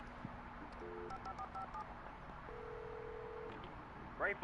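A telephone is dialed in the video game Alan Wake Remastered. A quiet series of short keypad tones plays, then one longer tone, over a low ambient background.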